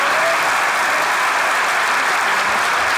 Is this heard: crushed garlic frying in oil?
no